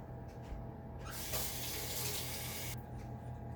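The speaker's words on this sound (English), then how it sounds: "So I'll rinse these off." Tap water runs into a kitchen sink to rinse food, a steady hiss that starts suddenly, holds for under two seconds and cuts off, close and fairly quiet.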